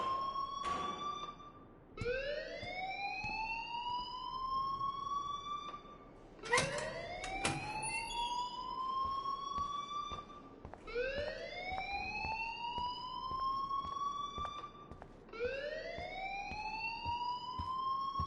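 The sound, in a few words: fire alarm ringing in Life is Strange video game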